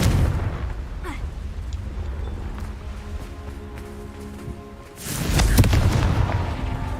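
A Confringo fire spell in the game Hogwarts Legacy bursts with a loud, deep boom that swells in the last couple of seconds, after a stretch of quieter ambient game sound with faint tonal hum.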